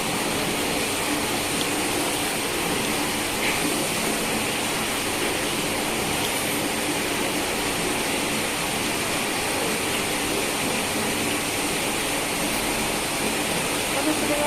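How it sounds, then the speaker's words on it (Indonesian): Water being filled makes a steady, unbroken rushing hiss at moderate volume, constant for the whole stretch with no breaks, and a voice may be faintly present in the background. "Ini suara isi air."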